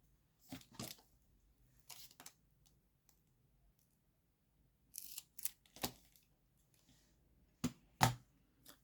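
Scissors make a small trim, giving a few crisp, close snips in short clusters separated by quiet pauses.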